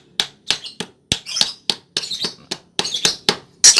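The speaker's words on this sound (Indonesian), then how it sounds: "Terus yang paling atasnya kita paku seperti ini aja" Nails being hammered into a wooden mould for a 26 cm tall bonsai pot, about a dozen sharp, close strikes in a steady, slightly uneven rhythm with short pauses between them.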